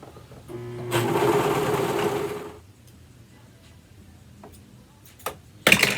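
A sewing machine stitches a romper seam in one short burst of rapid whirring for about a second and a half, then stops, followed by quiet handling and a couple of sharp clicks.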